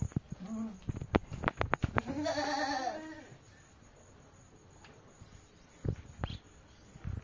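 A billy goat on a farm lets out a drawn-out, wavering bleat amid nearby clatter, with people talking around it and a few sharp knocks afterward.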